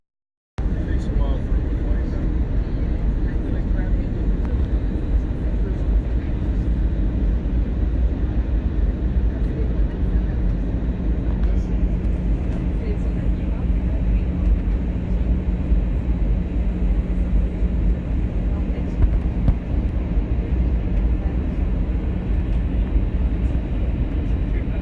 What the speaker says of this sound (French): Avion de retour pour la maison.